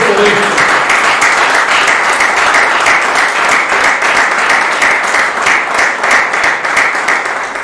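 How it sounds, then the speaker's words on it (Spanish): A church congregation breaks into loud, sustained applause, dense clapping filling the room steadily for several seconds with a few voices mixed in. "Dale un aplauso al Señor por esto."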